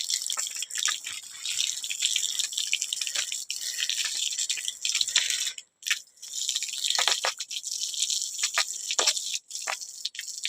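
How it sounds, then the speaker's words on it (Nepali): Water runs through a homemade pipe setup in a steady, hissing, bright stream with scattered drips and splatters, pausing briefly midway before flowing again. "अब पानी हाल्छु हो।"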